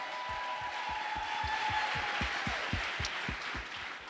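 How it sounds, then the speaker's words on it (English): Steady applause from an audience at a political event in Charlotte, North Carolina, a continuous wash of clapping with a rhythmic clap pulse, moderately distant and without talk. "Please give her a round of applause"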